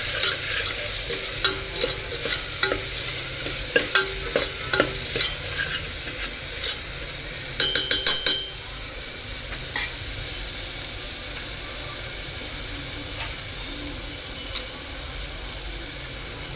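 Dry coconut paste frying and being stirred in a pan for a dhaba-style mixed vegetable curry: steady close sizzle with a hissing wash and repeated scraping strokes of a spoon, busier in the first half, with no talk.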